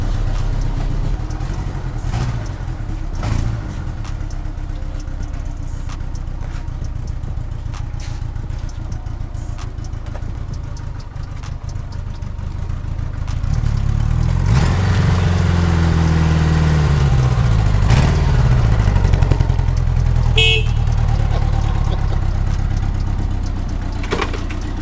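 A 1984 Honda Goldwing motorcycle engine idles steadily after a cold start without choke, a continuous low rumble that grows louder and rougher partway through as the revs rise slightly, with no talking over it.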